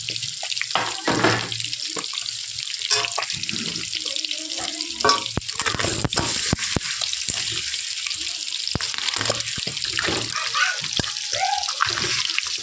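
A fish head fries in oil in a pan, giving a continuous loud, hissing sizzle with a few scattered knocks and spatters throughout.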